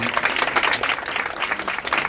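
Audience applauding the soloist of a band at a memorial concert aboard a ferry, steady dense clapping throughout at close, moderately loud level.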